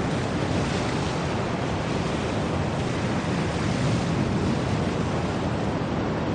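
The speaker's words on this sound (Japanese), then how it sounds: "いいね、海は" Sea waves roll continuously onto the shore, a loud, steady wash of surf mixed with wind rumble, and no voices.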